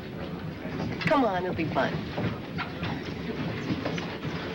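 A train rolls along its rails with a steady rumbling clatter throughout, heard from inside the carriage under close conversation.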